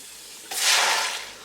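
Onion dropped into heated oil in a pot for a meat curry, one sudden loud sizzling hiss that swells and then slowly fades over about a second.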